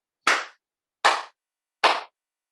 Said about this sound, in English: 3 loud, resonating claps